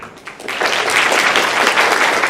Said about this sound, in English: please another round of applause for those comedies and clubs for making this event